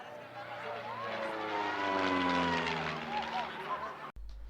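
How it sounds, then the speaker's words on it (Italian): An aerobatic propeller airplane flies overhead at a daytime community festival in Brazil, its steady engine drone swelling and then fading as it passes, with a sharp cut near the end. "nel pomeriggio si scomoda addirittura un aereo acrobatico"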